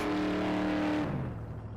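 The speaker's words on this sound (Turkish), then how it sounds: "bir launch kontrol gibi kalkış yapalım." A 1958 Burnet Ferndale car in My Summer Car launches off, its engine revving loud at first with a steady tone, then dropping into a lower rumble as it pulls away, with no talk.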